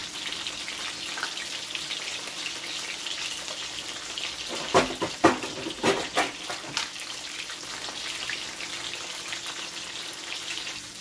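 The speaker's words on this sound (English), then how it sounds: "I'm going to lay over my pot to prevent the oil from splashing all over" Snapper frying in hot oil in a pot under a splatter guard gives a steady loud sizzle, with a few sharper pops and spits clustered in the middle.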